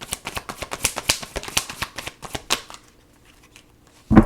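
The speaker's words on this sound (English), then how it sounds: "keep shuffling" Rapid riffle of tarot cards being shuffled, a quick run of crisp fluttering snaps, then a pause and one final louder bridge-like clack.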